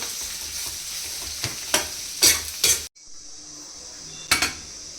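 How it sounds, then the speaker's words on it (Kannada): Onions fry with salt in a pan, giving a steady close sizzle broken by several loud scraping stirs and metallic clinks of a utensil against the pan. No one speaks. "ಚೆನ್ನಾಗೆಲ್ಲ ಫ್ರೈ ಮಾಡಿ ಆದಮೇಲೆ ಸ್ವಲ್ಪ ಸಾಲ್ಟ್ ಹಾಕಿದ್ರೆ ಚೆನ್ನಾಗಿ ಆನಿಯನ್ ಎಲ್ಲ ಫ್ರೈ ಆಗುತ್ತೆ"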